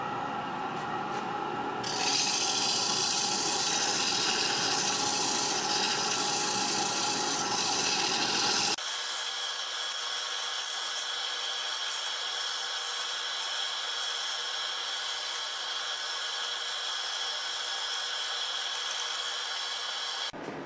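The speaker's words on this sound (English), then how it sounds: "I take a dowel pin, put a split in it, and I put sandpaper in there" A deer antler is sanded with sticky-back sandpaper wrapped in a split dowel pin, giving a continuous close, loud, gritty rasping that runs unbroken and shifts tone partway through.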